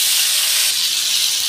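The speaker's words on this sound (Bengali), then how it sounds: "তো জিরে ভাজা হয়ে গিয়েছে, এবার আলুগুলো দিয়ে দেবো।" Potato pieces dropped into hot oil with fried cumin seeds, a loud, continuous bright sizzle and hiss filling the whole moment, with no voices.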